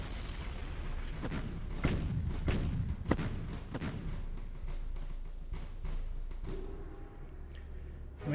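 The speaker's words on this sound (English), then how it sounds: "Artillery." Artillery fire from the strategy game Decisive Campaigns: The Blitzkrieg from Warsaw to Paris, a series of muffled low booms and thuds spaced irregularly over a dull background rumble, moderately quiet and without talk.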